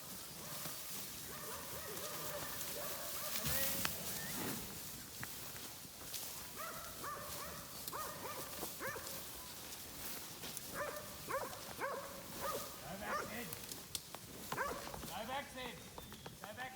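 Working dogs at cattle yards during a mountain mustering job, barking and yipping repeatedly at mid distance amid steady outdoor background noise, with clusters of barks coming in bursts.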